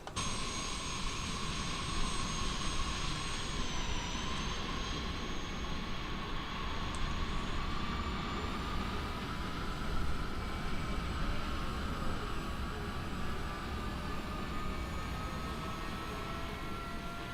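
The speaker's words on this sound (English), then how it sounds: "you can hear the jets spooling up" Simulated twin jet engines of a NetJets Global Express business jet spool up in Microsoft Flight Simulator 2020, a steady dense roar with rising whine tones that climb and hold throughout, loud and continuous with no talking.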